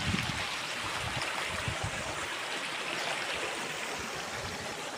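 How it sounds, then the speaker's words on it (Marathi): A flooded village stream swollen after two hours of torrential rain, rushing loudly and continuously with a steady roar of churning water and no other sounds. "असं भरपूर पाणी वाहत आहे"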